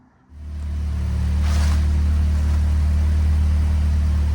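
A Nissan SR20-engined car on a dyno fires up abruptly and settles into a loud, steady, close droning idle with strong low rumble and a brief rise in hiss partway through.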